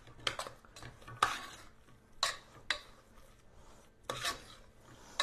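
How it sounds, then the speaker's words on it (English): A creamy spinach and ricotta mixture is stirred in a bowl, giving a few short scraping, wet swishes in irregular bursts, close and fairly quiet, with no talking. "I'm going to stir this up a little bit first, just to get it started mixing around"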